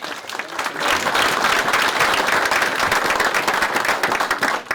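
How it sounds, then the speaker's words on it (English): An audience at a Hillsdale celebration of the Knox train claps in a dense, steady round of applause that lasts several seconds before tapering off. "Let's give a round of applause for them."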